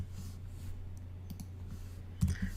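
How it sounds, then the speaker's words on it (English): Computer keyboard keys clicked a few times, faint isolated taps over a low steady hum, with a slightly sharper press near the end. "by just selecting it and pressing your delete key on your keyboard"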